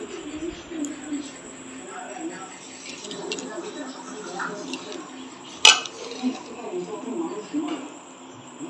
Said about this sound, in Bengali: ভাত বাড়া হচ্ছে এখানে।